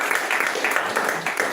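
An audience at a blockchain and web3 meetup in Nigeria claps briefly, a moderate round of applause with clustered claps rising and falling.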